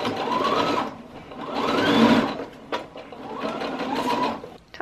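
A sewing machine runs straight seams in linen skirt fabric, whirring in three steady bursts with short pauses between them, close and clear with no voices.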